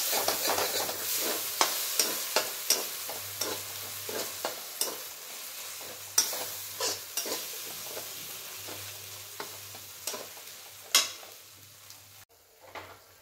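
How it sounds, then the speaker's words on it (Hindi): Spice paste sizzles steadily in a pan for a suran (elephant foot yam) curry while a spoon scrapes and stirs it in repeated strokes, close and clear. "एक साइड मेरा मसाला भून जा रहा है"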